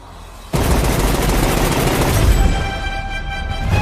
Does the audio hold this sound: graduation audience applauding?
no